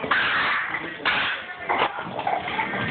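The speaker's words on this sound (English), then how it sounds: "He barks and then he runs." A dog gives a few sharp, loud barks and yips close by, separated by short gaps, with some indoor clatter around it.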